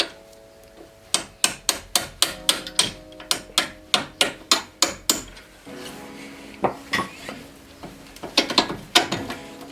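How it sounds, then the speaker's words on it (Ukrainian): Nut being loosened on a Citroen C8 front shock absorber mount: a rapid series of sharp metallic ratchet clicks and taps in bursts, close and fairly loud, with a pause and then more clattering strikes. "А далі відкручую гайку і і вже потім легко добуваю по центрі."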